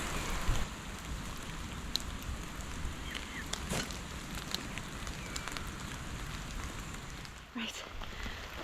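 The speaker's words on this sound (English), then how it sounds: "It's proper raining, proper" Heavy rain during a yellow weather warning patters on surfaces all around a campsite, a continuous broadband hiss with occasional louder drips and taps, no voices.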